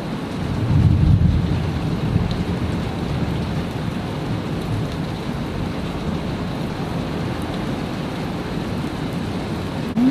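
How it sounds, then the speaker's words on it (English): Heavy rain pours down during a severe nighttime thunderstorm, a dense, steady roar of drops that stays constant and close, with no voices. "listen to that rain come down."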